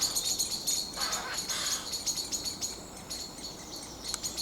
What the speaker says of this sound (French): Merle et geais crient en même temps.